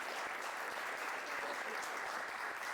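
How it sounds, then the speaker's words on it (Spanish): Steady, moderately faint audience applause at a talk on puppetry and film, an even wash of many hands clapping without pause. "stela Gómez y al maestro Iván Darío Álvarez, por quienes quiero pedir un aplauso, por favor."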